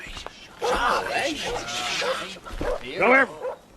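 A dog whimpers and yips in high, wavering cries, then gives a couple of short barks, close and fairly loud, with voices speaking around it.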